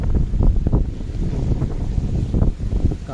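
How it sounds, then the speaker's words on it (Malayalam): Wind blowing beside a flooded, overflowing river, loud gusty buffeting rumble on the microphone with a low watery roar underneath, continuous and close. "കാറ്റടിക്കുന്നത് തന്നെ"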